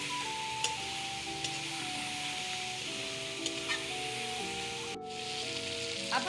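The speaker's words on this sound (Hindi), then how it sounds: "इसको हमने गोल्डन ब्राउन करना है चिकन को।" Chicken sizzles and fries steadily in a hot pan for an Afghani chicken karahi, browning until golden, a continuous close hiss with faint clinks, no talking.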